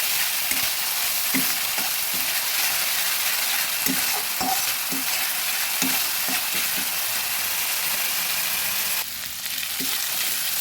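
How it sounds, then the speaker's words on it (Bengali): Continuous sizzling of ground spice paste and onion frying in a hot pan for a katla fish curry, with scattered scraping knocks from a spoon stirring it, close and steady throughout. "সুন্দরভাবে নেড়ে সব কিছু ভেজে নেবো"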